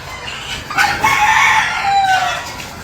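Roosters and hens at a gamefarm, with a loud nearby crow stretching across most of the stretch and clucking and other fowl sounds around it, no talking.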